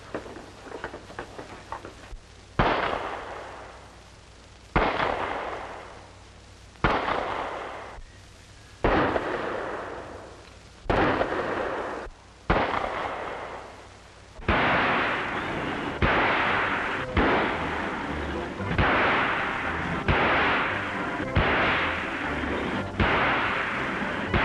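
Gunshots at a police shooting practice range in a 1940 crime drama, a series of sharp loud reports spaced a few seconds apart, each ringing out with echo, then faster firing toward the end.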